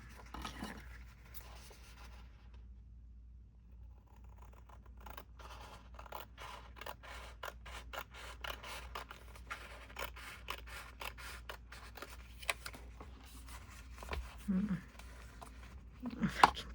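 Scissors cutting through papers for a repurposed thrifted journal, a run of quick snipping crunches and rustles at close range after a quieter start.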